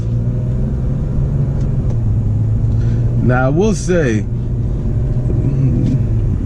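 Steady engine rumble and road noise from a 2004 BMW E46 330i ZHP with a 5-speed automatic, heard from inside the cabin while driving, with someone talking over it.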